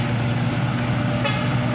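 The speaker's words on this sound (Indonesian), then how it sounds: "sudah terdengar mesinnya sudah mengerang guys" A heavily loaded Nissan container truck engine drones low and steady, straining slowly and continuously with a deep rumble throughout, no talking.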